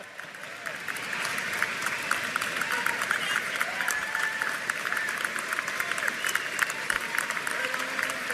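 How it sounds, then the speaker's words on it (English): Sustained audience applause and cheering following a political speech by NDP leader Wab Kinew, a dense, steady wash of many hands clapping with occasional whistles and shouts, loud and continuous throughout. "That applause goes on for a while, and it's well-deserved."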